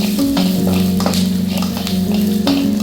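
Curry leaves, dried red chillies and green chillies sautéing in hot oil for rasam tempering, a loud close sizzle with intermittent crackles and stirring scrapes, alongside a steady hum.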